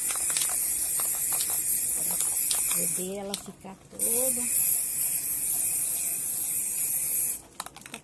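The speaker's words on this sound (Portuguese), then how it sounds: "eu vou pintar ela de verdinho, com tinta spray" A can of glittery green spray paint hisses steadily and loudly while coating a craft piece of cement sheet, mortar and egg cartons. The spray breaks off briefly while someone speaks, then resumes and stops near the end.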